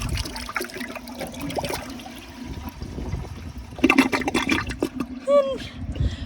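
An American Standard Cadet pressure-assist toilet flushes, a steady rush of water building to a louder surge and gurgle near the end, with a person talking over it.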